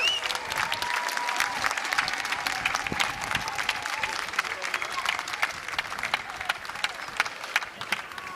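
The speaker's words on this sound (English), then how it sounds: "I want you guys to give her a round of applause." Crowd applause at the Million Worker March rally at the Lincoln Memorial, a sustained, even roar of many hands clapping outdoors, with faint voices mixed in throughout.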